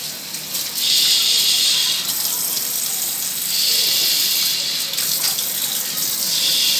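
Water from a tap pouring into a laundry washtub used for bathing a baby, a loud, close hissing gush that swells and eases in waves.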